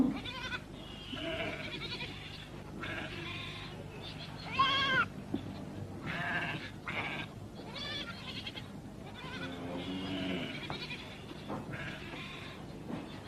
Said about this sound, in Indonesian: Kambingnya banyak bener